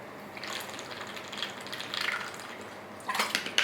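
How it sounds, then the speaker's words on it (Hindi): A person drinks water, making soft liquid sloshing and swallowing sounds at a moderate, close level. A louder splashy burst comes near the end, and there is no speech. "थोड़ा सा बस पानी पी लेता हूँ"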